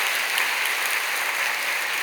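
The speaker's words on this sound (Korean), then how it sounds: "큰 박수 좀 환영하시죠" Big, steady applause from a church congregation welcoming the elders, a dense wash of many clapping hands sustained throughout without pause.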